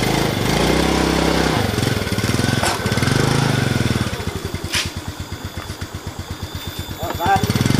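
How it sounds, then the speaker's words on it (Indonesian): A motorcycle engine runs loud and close, revving then settling into a rapid, pulsing idle putter, with voices speaking over it. "Suara motor saya tuh si Iqbalnya."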